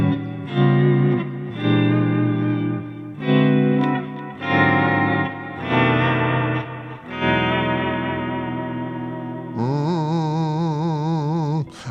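Electric guitar played live in the Orange Room, heavily processed through effects pedals with chorus, distortion and reverb; sustained chords and phrases ring out loud and close, ending in a wavering, modulated passage, with no voices.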